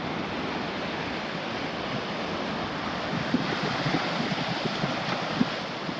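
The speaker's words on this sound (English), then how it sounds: "Got some pretty good waves coming in." Ocean surf at a public park in Haleiwa, Hawaii rolls and breaks in a steady, broad roar with wind noise on the microphone, continuous and fairly close, without voices.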